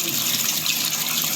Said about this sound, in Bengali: পাতাটা ভালো করে ধুয়ে নেব